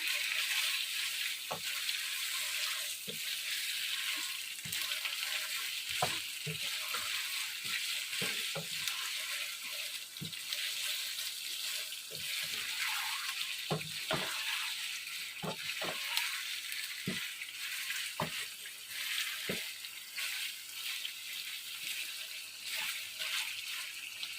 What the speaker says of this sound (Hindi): चिकन को हम अच्छे से फ्राई कर लेंगे, गोल्डन ब्राउन करेंगे इसे।